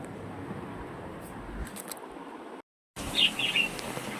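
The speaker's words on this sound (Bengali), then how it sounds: "এই দেখো এখানে পাখিগুলো এনজয় করছে" Birds chirp during light rain: a soft, steady rain hiss is broken by a brief dropout, then a few short, bright tweets sound close by near the end.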